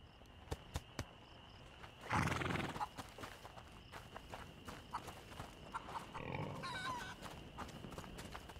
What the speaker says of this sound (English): Okay, that is a horse.